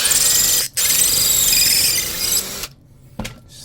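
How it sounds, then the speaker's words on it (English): A power drill bores out a nipple on a water jacket of an RC boat motor setup, a loud continuous high-pitched whine with squealing that cuts out briefly, resumes, then stops, followed by a short burst near the end. "I'm actually going to drill out this nipple on this jacket right here."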